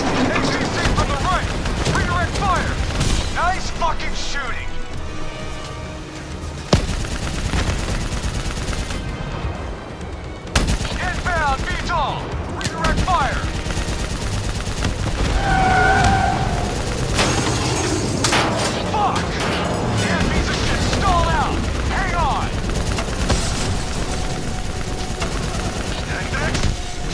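Continuous gunfire aimed at a VTOL aircraft in the video game Call of Duty: Black Ops III, with rapid bursts and shots throughout, mixed with loud shouting voices and a couple of sharp impacts.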